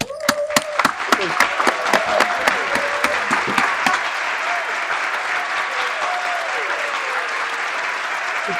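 A crowd at a patriotic march in support of the DRC-USA deal breaks into applause, sharp scattered claps at first building into steady dense clapping, with voices and shouts rising above it.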